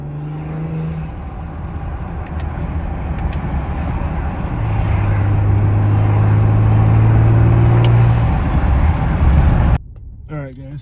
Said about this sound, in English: Kind of lag the boost a little bit so you can hear the blow off.